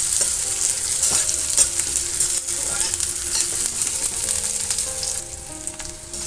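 Chopped onion fries lightly in a pan: a continuous bright sizzle with repeated clinks and scrapes of a spatula stirring, no talk.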